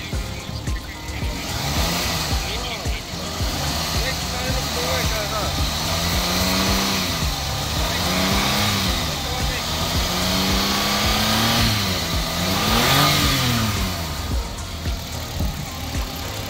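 Car engine running with repeated revving, the pitch climbing and falling in waves over a steady rumble, with people talking over it now and then.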